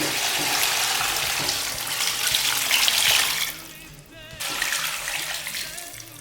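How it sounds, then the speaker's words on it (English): Water pours steadily into a cooking pot in a loud, hissing rush, breaks off briefly, then starts again. "You start adding water."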